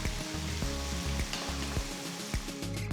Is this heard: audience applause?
no